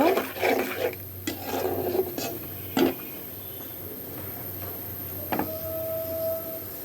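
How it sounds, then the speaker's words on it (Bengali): A spatula scrapes and stirs coriander powder with ground ginger, garlic and cumin paste in a pan, making repeated rough rubbing strokes against a steady background hiss; no one talks. "এখন সব উপকরণগুলোকে আমি খুব ভালো করে কষিয়ে নিব"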